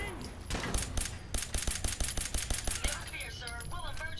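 A robot's egg-whisk weapon strikes in combat in Fallout 4: rapid, evenly spaced metallic rattling hits in a fast burst, followed by squealing electronic warbles.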